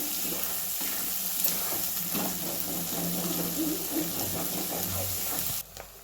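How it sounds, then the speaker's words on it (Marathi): Masala with turmeric and red chili powder sizzling as it fries in a pan, a steady close crackle with light stirring that drops away abruptly near the end. "आता असं छान मिक्स करून भाजूया आपण छान मसाला दोन मिनटं"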